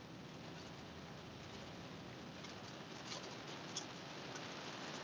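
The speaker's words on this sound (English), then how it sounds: "Oh, dude, it is literally downpouring right now." Heavy rain pours down in a steady, dense wash of noise that stays even throughout. Faint bird calls are heard once or twice in the background, and no one speaks.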